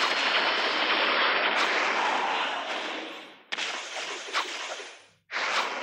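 A bomb or grenade explodes in a video game, a loud roaring blast with a long crackling rumble that fades, followed by further sharp bursts of noise.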